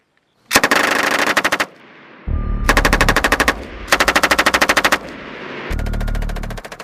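Machine gun fire during Marine crew-served weapons training with M240 and M249 guns, four loud, rapid bursts separated by short pauses, the later ones over a low rumble, with no talking.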